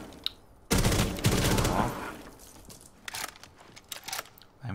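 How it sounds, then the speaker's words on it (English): Gunfire from Rainbow Six Siege during the Suburban Extraction situation, a loud close burst of rapid shots followed by scattered quieter single shots and clicks. "make sure you hold Alt, default, shoot, and then shoot these two guys in the pool room"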